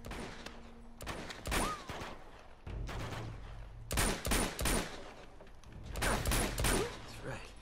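Gunfire in the video game Uncharted 2, repeated bursts of loud close shots in several clusters, with sharp reports and echoing tails, while a player talks in between.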